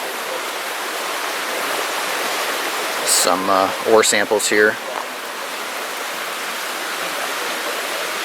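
Creek flowing beside a miner's cabin in the Sierra Nevada: a steady, broad rushing of water continuous throughout, with someone briefly speaking over it midway.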